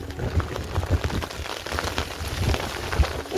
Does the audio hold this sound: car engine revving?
no